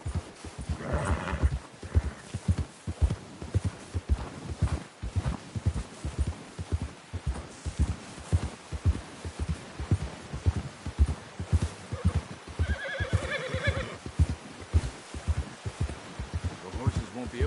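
Horse hooves beat in Red Dead Redemption, a steady, close, evenly spaced clopping that runs throughout, with a couple of neighs standing out early on and again near the end, with faint speech in the background.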